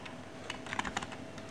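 A short burst of typing on a computer keyboard, a cluster of quick light clicks near the middle, close and fairly quiet against a faint background hum.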